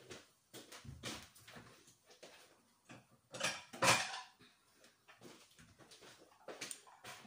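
Pansit mami noodle soup being served into bowls, with close clinks of utensils and bowls and soft clattering in bursts, a dog whimpering faintly in the background.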